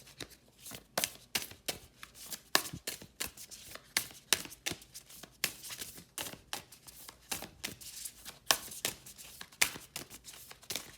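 Tarot cards being shuffled in quick, crisp bursts of riffling and slapping, close up and steady, with no talking.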